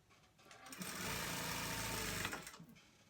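A sewing machine stitches the shoulder seam of a fleece hoodie, whirring up to a steady, close run for about a second and a half before slowing and stopping, with no talk.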